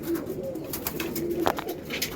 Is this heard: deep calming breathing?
no